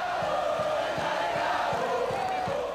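A packed stadium crowd of football fans at a 1999 Copa do Brasil match between Treze and Corinthians gives a steady roar from the stands, with faint rhythmic thumps pulsing underneath.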